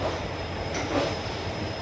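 An Indian Railways train from Howrah to Puri rumbles steadily along the rails, a continuous loud roar with faint metallic squeal and no voices.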